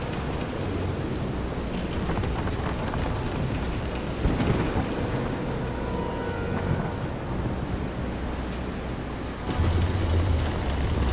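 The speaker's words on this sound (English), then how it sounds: "This is some storm." Heavy thunderstorm with steady rain at sea in the video game Visions of Mana, a dense continuous roar of downpour with rumbling thunder swelling midway and again near the end, no voices.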